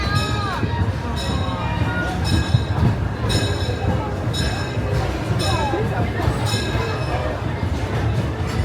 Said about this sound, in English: the Grand Circle tour on the Disneyland Railroad here at Disneyland Paris